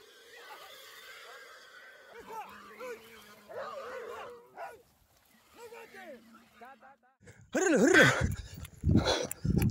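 A pack of hunting dogs on a wild boar hunt in Uruguay gives yelping, whining barks that come and go, swelling into a louder burst of overlapping barks near the end.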